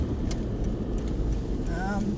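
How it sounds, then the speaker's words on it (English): A big truck passes on the road, a steady low rumble of engine and tyres that holds close and loud for the whole moment, with a brief higher tone near the end. "big truck coming."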